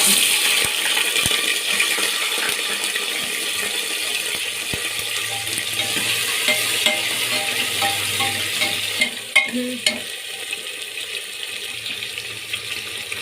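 Chopped onions frying in a spiced tempering for a potato and chickpea curry give a steady, close hiss of sizzling oil, with a few light clinks of a utensil against the pan near the end and no talking.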